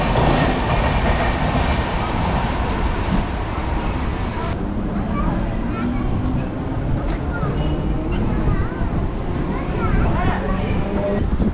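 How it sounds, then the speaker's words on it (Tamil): A Chennai suburban MEMU train rolls into a railway station with a loud, steady rumble, rattle and rhythmic wheel clatter, and a voice talks over it. "இப்போ ட்ரெயின் வந்து குரம்பட்டி ரயில்வே ஸ்டேஷனுக்கு என்ட்ரி ஆகுது."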